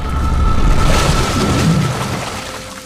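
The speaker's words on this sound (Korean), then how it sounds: "남편은 갑자기 폭발합니다." A sudden explosion in a film scene, a loud sustained boom with rumbling low end and crackling debris that slowly fades over about three seconds, with no speech.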